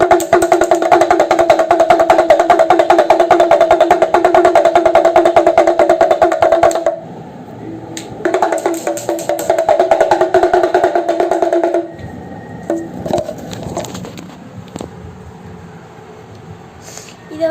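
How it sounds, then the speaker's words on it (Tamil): An udukkai, the Tamil hourglass hand drum, played in rapid steady rolls of ringing, pitched beats, loud and close, pausing briefly, resuming, then breaking into scattered strokes near the end. "இப்போ பார்த்தீங்கன்னா உடுக்கை இது."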